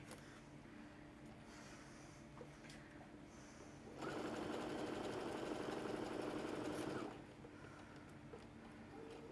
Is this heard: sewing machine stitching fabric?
yes